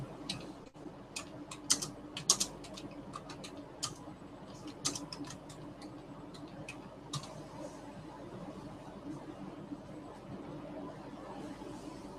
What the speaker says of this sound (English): I will type a text here.